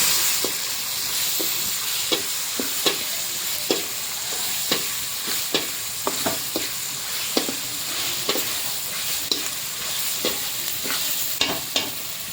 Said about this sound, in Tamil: வெங்காயம் வதங்கிட்டுருக்கு நல்லா